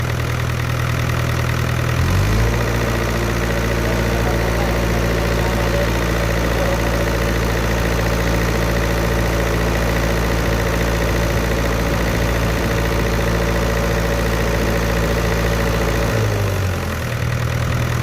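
A Miller diesel welding machine engine runs steadily, revs up to a higher, louder drone for most of the time, then drops back down as the automatic idle cut-off kicks in. No one talks.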